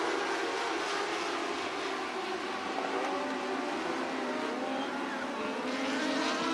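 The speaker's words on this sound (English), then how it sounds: "Camden Robustelli on the gas" Sprint cars racing on the Coos Bay Speedway dirt oval during an Interstate Sprint Car Series event, a dense, loud, continuous engine roar with no voices.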